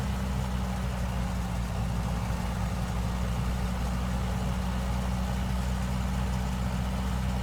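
A de Havilland Tiger Moth biplane's engine drones steadily at reduced throttle in flight, a loud, constant low rumble with a dense roar of wind and propeller noise throughout.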